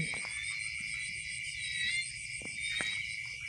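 Frogs croak at a rural pond, with a dense, steady chorus of high insect-like trills and a few separate low croaks over a quiet, even background.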